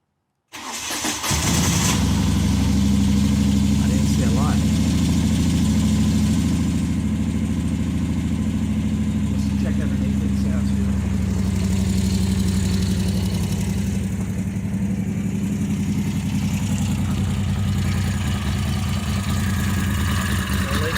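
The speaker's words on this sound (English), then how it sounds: "I'm going to start it up and let it run just a little bit, let it settle down" A 2008 Moto Guzzi Breva Sport 1200 engine cranks and fires, then settles into a loud, steady, close idle that runs on unbroken for about twenty seconds.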